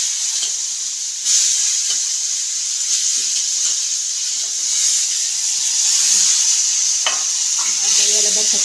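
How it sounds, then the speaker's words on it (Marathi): Chopped tomatoes sizzle loudly in hot oil with a little masala in a home kitchen pan, a dense, constant frying hiss broken by occasional scraping stirs of a spoon. "आता याच्यात टोमॅटो टाकायचे"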